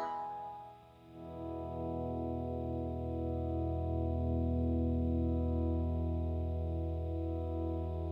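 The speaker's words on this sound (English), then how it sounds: "my carbon copy analog delay with the mod button pressed. Gives it a cool kind of warble sound." Sustained ambient guitar chords pass through a Carbon Copy analog delay pedal with its mod button engaged, layering into a thick, warbling, chorus-like drone that swells after a brief dip and holds steadily.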